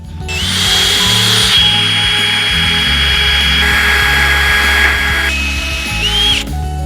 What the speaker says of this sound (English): and then we'll start to drill